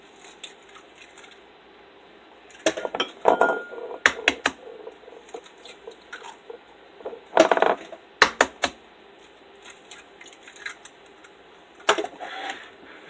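Milk and eggs go into a bowl for bread pudding, heard as scattered close clicks, taps and clatters of containers and utensils against the bowl, separated by quiet pauses.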